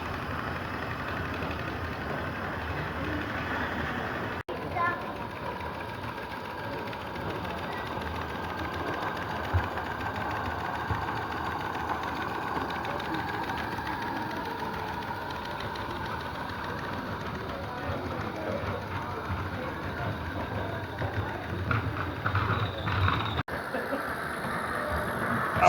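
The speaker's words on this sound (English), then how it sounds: "the ever popular Mulch traction engine, which pulled a variety of trailers over the weekend" A Mulch narrow-gauge traction engine runs at a convention, giving a steady mechanical chugging hum with a faint rapid rhythm that holds without a break, moderately loud and unbroken by talk.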